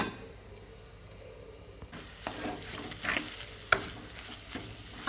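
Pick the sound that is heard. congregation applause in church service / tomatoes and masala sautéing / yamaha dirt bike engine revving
tomatoes and masala sautéing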